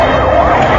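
A police car siren wails loudly and continuously on a highway, close and filling the moment with no talk over it.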